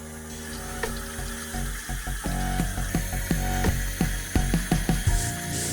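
Water rushes steadily through pipes into a toilet tank, with intermittent gurgling surges; no one speaks.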